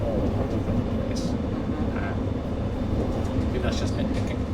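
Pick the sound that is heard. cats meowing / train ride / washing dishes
train ride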